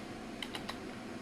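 Keys on a computer keyboard tapped while entering R code for a random forest test, a few quick separate clicks, fairly quiet and close, with no talking.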